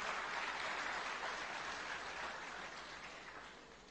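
An audience applauds a young Emirati child, a steady wash of clapping heard faintly and fading slightly toward the end, with no voices over it.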